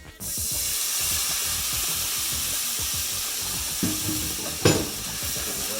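White wine poured into a hot pan for deglazing while making chicken piccata sizzles loudly and steadily, a dense close hiss with a couple of sharper spits and flare-ups near the end.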